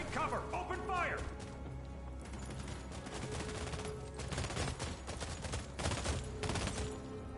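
Rapid video-game gunfire from the sci-fi shooter The Expanse: Osiris Reborn, with bursts of automatic weapons, impacts and crashes throughout a busy firefight, while voices shout over the action.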